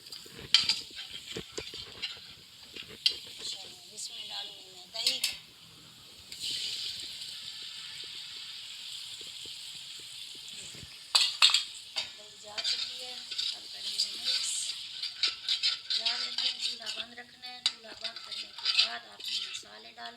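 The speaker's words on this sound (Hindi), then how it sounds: "अब मैं इसमें डालूंगी वो तमाम मसाले, इन्हें करेंगे मिक्स" Spices being stirred into garlic frying in a pot for aloo mattar biryani, with a steady sizzle and intermittent scraping and clinking of a utensil against the pot throughout.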